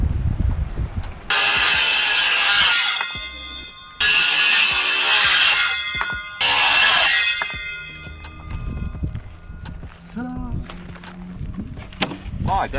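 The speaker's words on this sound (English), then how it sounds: "we're gonna cut the 2x4s on the back side of the panel" A power saw cuts through 2x4 boards on the back of a wooden gate panel, with three loud whining cuts, each a few seconds long. Between the cuts there are knocks and clatter, and people talk over them.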